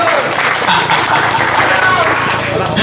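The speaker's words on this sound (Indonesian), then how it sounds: "Tepuk tangan buat panjenengan semuanya" An audience at a local gathering in Kemalang claps in a dense, sustained burst of applause, with a voice talking loudly over the clapping throughout.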